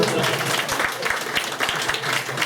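A festival audience at the Shida Gunga Festival in Fujieda applauds steadily for a local musician, a dense, continuous wash of clapping lasting throughout, fairly close and even in loudness.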